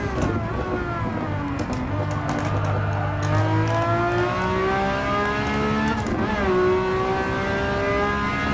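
A race car with a Formula One style chassis revving in the video game Gran Turismo 7, its engine note climbing steadily through the gears with a brief drop and shift around six seconds, loud and continuous.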